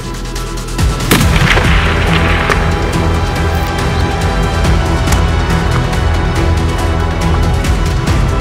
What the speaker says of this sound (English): You shot through the chamois, you got it.